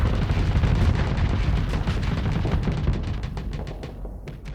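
Hammerhead autocannon rounds striking a ship in Starsector, a steady rumbling roar with a fast patter of impacts that slowly fades toward the end.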